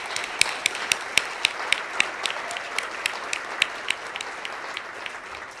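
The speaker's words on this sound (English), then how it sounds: "Let's give all our finalists a round of warm applause." An audience at a business awards ceremony applauding steadily, sharp individual claps standing out over a dense, even wash of clapping that slowly thins.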